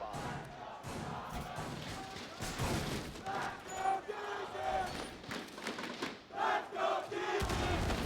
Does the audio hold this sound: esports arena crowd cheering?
yes